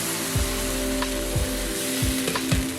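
Palappam batter ladled into a hot appam pan over a medium flame, giving a steady sizzle with a few soft scraping and stirring touches and a low hum underneath, close and with no one talking.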